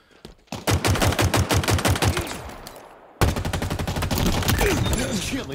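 Loud, evenly spaced shots from a BR rifle in the video game Halo Infinite, firing in rapid rhythmic bursts with a brief pause midway, then continuing dense fire.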